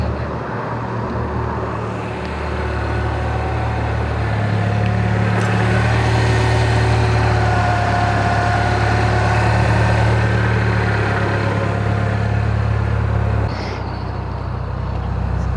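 A Mini Cooper S R56 with its turbo muffler deleted idles steadily nearby, a low, even engine drone that swells slightly midway and then settles, with no talking.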